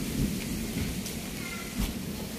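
Steady rain hisses continuously at a moderate distance, with a few soft low thumps mixed into the wash of falling water.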